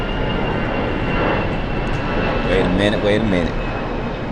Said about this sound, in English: okay, another airplane